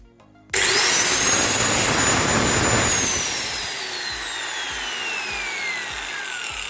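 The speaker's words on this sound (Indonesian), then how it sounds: "Nah, ternyata gerinda ini sudah hidup hanya dengan cara membersihkan saklarnya kemudian dipasang kembali." An angle grinder with a freshly cleaned switch snaps on with a loud, high whine that holds steady, then eases into a slightly lower, steady running tone, close and alone.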